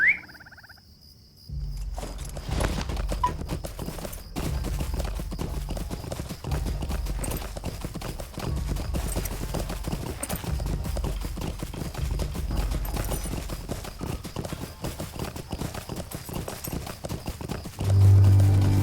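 Video game horse hooves clip-clop at a steady riding pace for a long stretch, mixed with chirping crickets and ambient outdoor game sound, with a brief quiet moment at the start.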